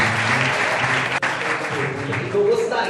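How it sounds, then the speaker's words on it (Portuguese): A church congregation applauds loudly and continuously, full crowd clapping filling the clip, with a voice briefly audible through it. "Vamos aplaudir o Senhor."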